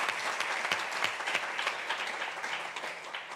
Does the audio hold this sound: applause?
yes